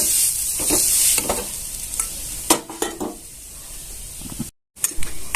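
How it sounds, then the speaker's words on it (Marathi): Grated coconut and flour roasting in ghee in a pan, with soft sizzling and scraping stirs coming in bursts and short pauses. "इथे आपलं खोबरं आणि मैदा छान असं भाजलेलं आहे"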